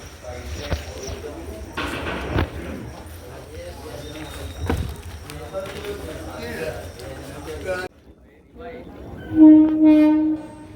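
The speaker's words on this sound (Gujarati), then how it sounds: "ફાઇનલી મિત્રો ટ્રેન આવે છે પછી આવ નીકળીએ" A train rumbles in with clanking wheels, then a loud horn blares near the end; people talk over the noise in the background.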